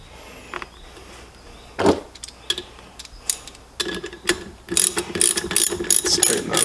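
A ratchet wrench tightens a bolt on a 13,000 lb 12V electric synthetic-rope winch, with close, rapid clicking strokes that grow denser and louder toward the end.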